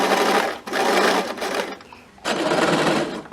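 A sewing machine runs a hem using a hemming foot in steady, close, rapid bursts of stitching, pausing briefly twice before whirring on again.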